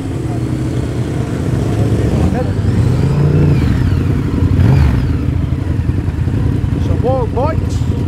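Motorbikes and cars revving and roaring along a busy Sydney street in Liverpool, a dense continuous engine drone with rising rev sweeps, while people talk over the traffic noise.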